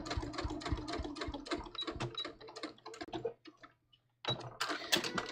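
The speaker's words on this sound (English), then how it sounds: "So first I'm going to edge stitch right near the edge." A sewing machine runs steadily, edge stitching close to a pressed seam edge on double-faced linen knit shorts, a fast mechanical ticking that breaks off briefly near the end before the machine starts again.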